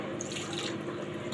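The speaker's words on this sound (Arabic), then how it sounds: "احط كمان شويه ميه" Water runs in a steady, continuous stream into a bowl of tahini, with a soft splashing texture and no talking.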